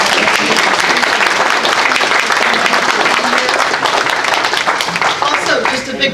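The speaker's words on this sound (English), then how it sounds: "let's give a big round of applause" An audience at a community meeting on water in Marin gives a loud, sustained round of applause, dense clapping throughout with some voices mixed in.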